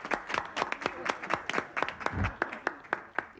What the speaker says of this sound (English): They're actually applauding.